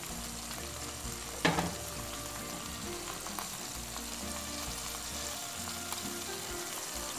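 Pork meat frying in a pan for a chile morita sauce, a steady crackling sizzle with a brief louder clatter of stirring near the start, close and alone.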